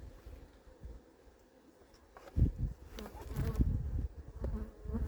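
Honeybees buzzing around a beehive outdoors, a steady insect hum that swells and grows louder partway through, with wind and rustling handling noise underneath.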